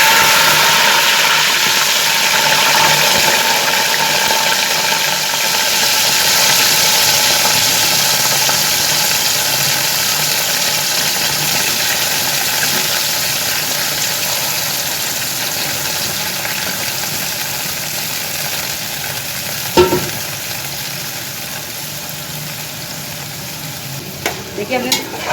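Mixed vegetables with cumin seeds fry in hot mustard oil, a steady close sizzle with stirring scrapes throughout, a couple of sharper clatters near the end, no talking.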